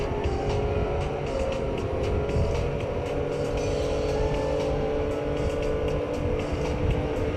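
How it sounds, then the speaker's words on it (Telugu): Driving a car in the game Neverness To Everness gives a continuous, even engine rumble, loud and close, running without pause and with no voices over it. "కార్ అయితే బాగా పోతుంది"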